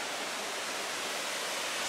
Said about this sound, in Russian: Ну и вот мы на финише, добрались уже до водопада.